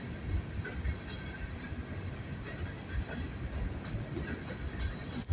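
Two trains rumble past northbound steadily, with low rolling wheel noise, faint metallic squeals and occasional clacks, continuous and at moderate distance with no talking.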